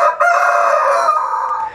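A Sussex chicken gives a loud, close, drawn-out crow with a brief break near the start, followed by a short clucking tail as it fades.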